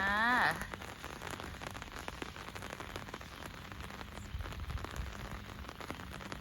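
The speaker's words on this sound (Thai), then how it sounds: "ฝนก็ตกพอฝน" Evening rain falls steadily on surfaces outdoors in rural Thailand, a close, continuous patter and hiss. A short whistling tone sounds at the very start.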